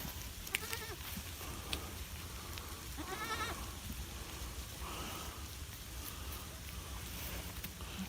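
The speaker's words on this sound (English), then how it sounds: "There's the goat." A goat bleats a few times in a pasture after a storm, faint and somewhat distant against steady outdoor background noise, with short wavering calls.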